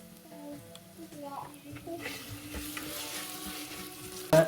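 Ginger garlic paste frying in a pan while making chicken madhooth, a steady sizzle that swells and thickens partway through, layered over a sustained tonal background, with a sharp clink near the end.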